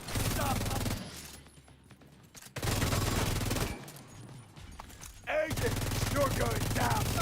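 FAMAS assault rifle firing in a video game: loud, rapid bursts of gunfire that stop for quiet gaps and then start again, with voices heard faintly in the background.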